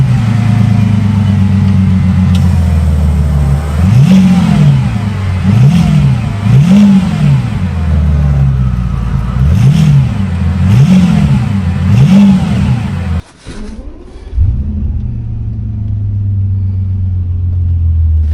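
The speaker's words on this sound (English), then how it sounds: "Alright, let's start the car first then." A 2008 Bentley Continental GTC starts up in chilly Swedish winter weather, then its engine revs repeatedly in rising and falling sweeps over a deep idle, loud and close, before cutting briefly and settling back to idle.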